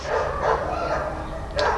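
Indoor dogs, restless and agitated, give off short yipping barks and whimpers through a steady muffled background, with a brief sharper yelp near the end; fairly close, moderate loudness.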